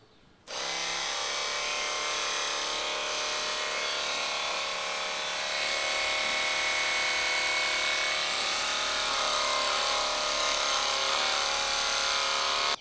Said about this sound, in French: Il faut placer la tondeuse parallèle à la peau du cheval et tondre à rebrousse-poil